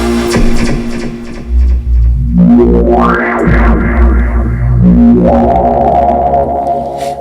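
A gritty, distorted Novation UltraNova synthesizer drones loudly, its pitch sweeping up and down in throbbing, noisy waves with no voices.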